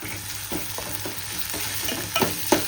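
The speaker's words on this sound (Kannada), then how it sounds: "ಈಗ ಉಳ್ಳಾಗಡ್ಡಿ ಫ್ರೈ ಆಗತ್ತವು." Onions frying in hot oil with garlic paste, a steady close sizzle broken by repeated scraping stirs, with a couple of louder clatters near the end.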